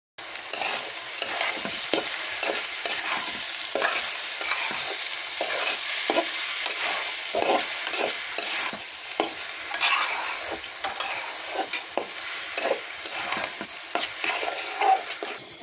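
Rice, lentils and salt sizzling in oil in a cooking pot for khichuri while being stirred, with steady hiss and frequent scraping stirs across the whole stretch, fairly close and with no talk.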